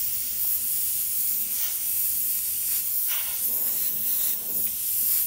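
An airbrush sprays sienna paint through a texture stencil in a continuous close, airy hiss, with soft pulses as the spray passes over the stencil and no talk.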